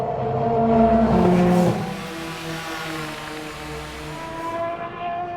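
Racing cars including a BMW scream past on the FIA WEC Qatar 1812km circuit, a loud engine note peaking early and then fading into a steadier distant drone of several cars.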